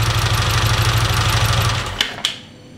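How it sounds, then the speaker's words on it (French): A tuned car engine idles steadily with a low rhythmic pulse, then is switched off near the end, leaving a couple of faint clicks and quiet. "Donc là on a un moteur qui tourne parfaitement bien réglé"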